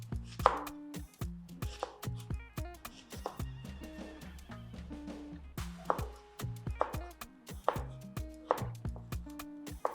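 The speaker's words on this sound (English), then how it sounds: "we have our onion here, neatly washed. I'm going to be slicing or dicing it" A knife chops a washed onion on a cutting board, a rapid series of sharp, close wooden knocks in an uneven rhythm that runs throughout, with scattered brighter clicks and no talking.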